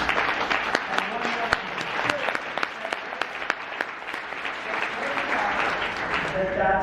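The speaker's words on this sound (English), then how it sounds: "Do the worst golf clap you can imagine." An audience claps in a deliberately sloppy, uneven golf clap, a steady patter of many hands with sharper individual claps standing out and some murmuring voices underneath throughout.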